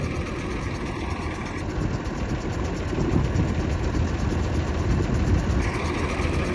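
An early Super 90 tractor engine idles steadily at a dry-times truck show, a continuous low, even rumble holding close and constant throughout with no voices.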